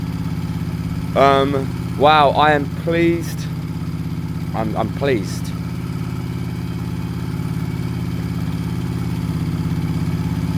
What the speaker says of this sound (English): it needs to warm up, it needs to stretch its legs, we need to get the revs up